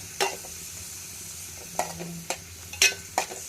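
A ridge gourd roast stirred in a frying pan, with a steady sizzle underneath and about five sharp scraping strokes of the spoon against the pan, close and distinct.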